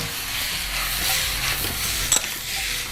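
Walnuts caramelizing in a pan with soy sauce and brown sugar give a steady, soft sizzle and bubbling hiss, with faint stirring scrapes and one brief clatter near the end, and no voices.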